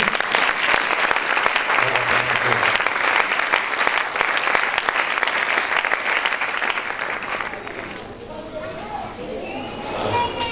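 A church congregation applauds steadily as a delegation enters a service, with a dense wash of clapping that eases slightly toward the end while voices speak over it.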